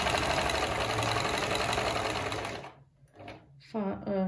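A Privileg Topstar Electronic 860 sewing machine whirs steadily while sewing a straight stitch, close and continuous for a few seconds before it stops and a person starts talking.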